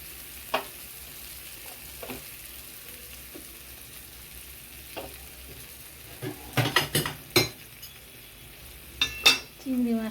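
Spice paste fries in ghee for a prawn dish, giving a low steady sizzle in a pan, broken by scattered sharp clinks and scrapes of a utensil stirring against the pot, louder toward the end.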